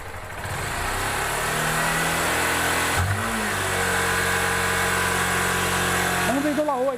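A Honda Fan 160 motorcycle engine is revved briefly in a workshop while someone talks over it. The steady idle climbs into a short rev partway through and then settles back, with the engine close and loud.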